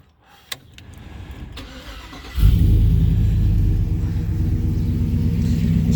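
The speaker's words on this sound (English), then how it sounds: "Got the double tip exhaust. Gotta turn it on for y'all so y'all can hear it." A 2004 Chevy Silverado 5.3 V8 with a performance cam and double-tip exhaust starts up after a few faint clicks, then settles into a loud, steady, lopey rumbling idle close by.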